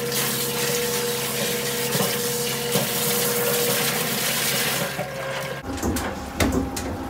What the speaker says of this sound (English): So it turns off the Bathing Beauty, turns on the pump in one go.